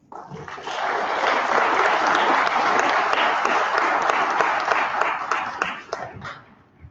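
A debate audience applauding as primary candidates are welcomed onto the stage, a loud dense roar of clapping that swells quickly, holds steady for several seconds, then tapers off.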